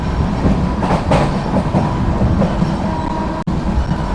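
Steady rumble and rhythmic clatter of the Mangalore Central Express running along the tracks, loud and continuous, with a brief dropout near the end.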